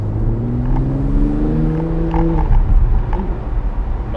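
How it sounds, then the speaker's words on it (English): A Mercedes-AMG E53 in sports mode revs loud and close, its deep exhaust note climbing in pitch then dropping off, followed by a lower rumbling burble with small crackles. "it changes the note of the exhaust, so it makes it a little bit deeper"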